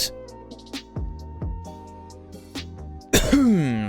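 A few short, sharp coughs and throat-clearing bursts, close and fairly loud, ending in a longer strained vocal sound imitating a Pokemon, with no talking.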